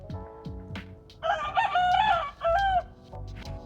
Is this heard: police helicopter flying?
no